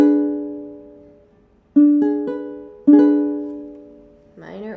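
A diminished chord in second inversion is struck on a keyboard, held and decaying, then struck again twice in close succession, each attack fading slowly; a voice begins speaking at the very end.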